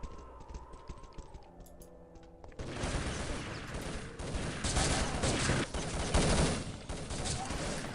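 Gunfire in a competitive video game match, rapid bursts of shots crackling densely after a quieter opening with faint clicks, sustained and fairly loud to the end.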